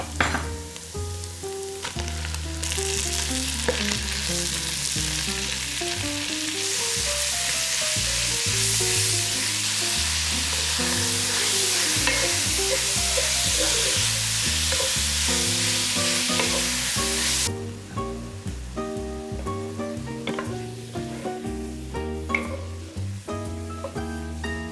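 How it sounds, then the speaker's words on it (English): Ground beef and pork belly sizzle and fry in a pan for an Italian Bolognese ragù. A dense, continuous crackling hiss grows louder midway, then eases, over steady background music. "we let it go until it's nice and brown and we hear that beautiful sizzling sound"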